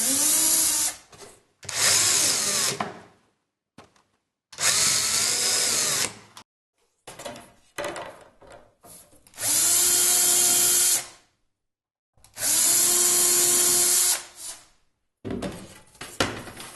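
A power drill whirs in five long bursts of a few seconds each, drilling holes in the wooden playing surface of a snare cajon kit, with short pauses and clattering handling noises between them, close and loud.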